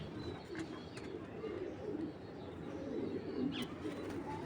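A pigeon coos softly in a quiet indoor space, low murmuring calls repeating over faint background noise.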